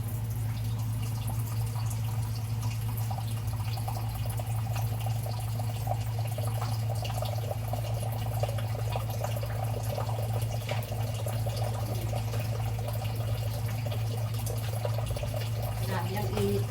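Water runs steadily from an outside tap in a continuous, fairly loud splashing stream, with a voice talking intermittently over it.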